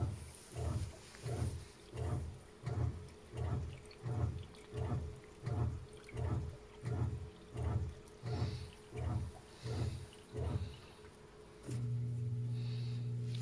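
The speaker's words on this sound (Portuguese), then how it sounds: "Começou a drenar a cantareira de água." A Panasonic Ag+ 16 kg washing machine drains water after its rinse cycle, a pulsing gurgle repeating about a dozen times at a steady rhythm, then settling into a continuous pump hum, close and moderately loud without talking.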